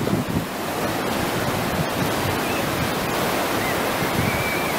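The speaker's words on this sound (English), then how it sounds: "down here by the water with the waves in Daytona Beach" Ocean waves roll onto Daytona Beach in Florida, a loud continuous wash of surf close by, mixed with rushing wind buffeting the microphone, with no voices.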